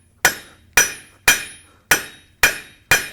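A blacksmith's hammer strikes hot metal on an anvil while forging a nail, six sharp ringing blows at a steady pace, each one bright and decaying quickly, loud and close.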